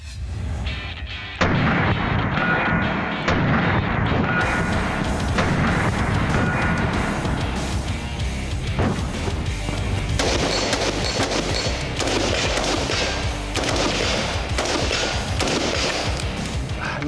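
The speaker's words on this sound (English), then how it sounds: "Amazes me every time I shoot one of these rifles with that muzzle brake on it, how controllable it is." Springfield Armory SAINT Victor .308 rifle with a muzzle brake firing, loud close booming shots in quick succession that fill the whole stretch with sharp blasts and echoing reports.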